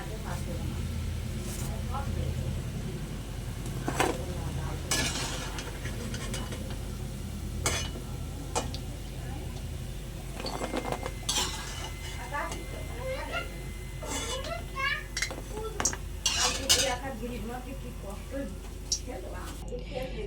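Fried flour biscuits being lifted out of a pan of oil, heard as scattered metallic clicks and scrapes of a utensil over a low, steady background hum, with faint sounds of people in the background.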